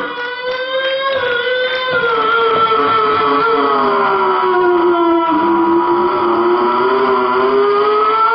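A voice imitates a Formula 1 race car, a loud, sustained engine whine that climbs and sweeps through the gears in rising and falling pitch.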